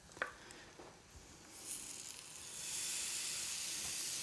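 Crêpe batter hits a hot pan and sizzles, starting as a faint hiss with a few small clicks and swelling into a steady, soft sizzle close by.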